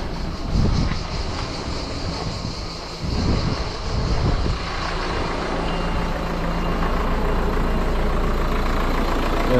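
Renault 1.5 dCi diesel engine idling steadily after a timing belt change, a continuous broadband rumble with a few louder knocks near the start, then an even drone to the end.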